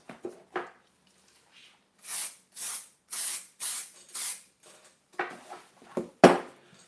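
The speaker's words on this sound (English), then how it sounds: "Spray fix." Fixative sprayed from an aerosol can over a drawing of a red car: five evenly spaced hissing bursts, close and loud, with light rustles and clicks around them.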